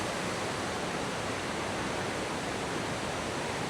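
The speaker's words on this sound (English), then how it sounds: "Say this is approaching the top of the falls" Rhaeadr Ddu, the Black Waterfalls in Wales, roars as a steady broadband rush of falling water heard from near the top of the falls, constant and with no voices.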